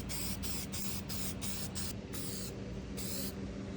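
Aerosol can spraying adhesion promoter onto car parts before primer and paint, a steady loud hiss in several bursts with short pauses, close by, alone without talk.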